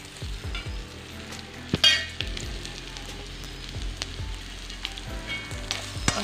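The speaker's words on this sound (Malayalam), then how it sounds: "നന്നായിട്ട് ഇളക്കി കൊടുക്കാം" Grated coconut and ginger are stirred in a hot pan for Kerala inji thiyal. A spoon scrapes in repeated uneven strokes over a gentle sizzle, with a few sharper knocks against the pan.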